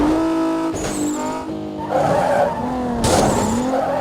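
Car tires squealing through a turn in Need for Speed Most Wanted, with a revving engine tone under two sharp bursts of skidding screech.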